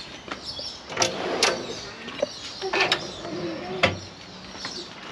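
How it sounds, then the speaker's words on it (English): A drink is taken from a fridge in a custom vehicle canopy build, heard as clattering, sliding and creaking door and mechanism noises in short bursts, fairly close, with no talk. "I'll just grab a drink out of the fridge"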